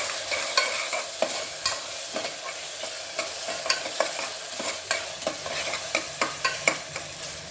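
Rock salt and turmeric frying in a pan, a steady low sizzle broken by repeated sharp scrapes and taps of a stirring spoon at an uneven rhythm, close and moderately loud, with no talking.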